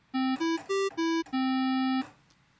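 Synthesizer tone with its odd harmonics removed, played as five short separate notes followed by one longer held note, bright and clean against a quiet background.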